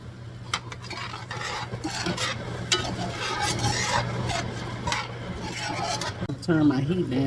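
Butter is stirred into a seasoned shrimp sauce in a pan over lowered heat, a soft sizzle under repeated scraping and clinks of a utensil against the pan, close by, with a voice speaking at times.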